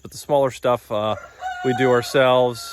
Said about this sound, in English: There's a rooster in the background